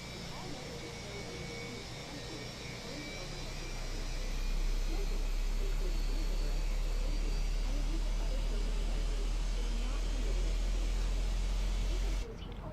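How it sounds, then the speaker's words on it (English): An Airbus A320 engine in Microsoft Flight Simulator starts with a low, steady whine and a rising rumble that swells and then holds at a constant drone, with quiet talk underneath. "Now we're starting the engine."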